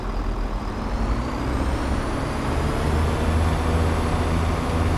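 Class 170 diesel unit in Train Sim World 4's Fife Circle route pulling away at full throttle, a steady loud engine drone with deep low rumble and faint high whine, continuous throughout with no talk.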